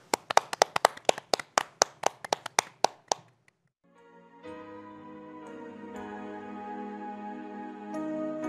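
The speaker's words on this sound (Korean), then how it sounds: "박수로 청해 듣겠습니다" About a dozen sharp, evenly spaced claps ring out alone in a church program setting, then stop; after a short silence, sustained musical tones fade in and build.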